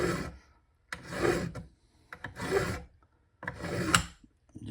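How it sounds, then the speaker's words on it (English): Flat file rasping across the metal ears of a Holley one-barrel carburetor float bowl: four separate strokes with short silences between them, close up and gritty, with nobody talking. "so I can flat file this a little bit"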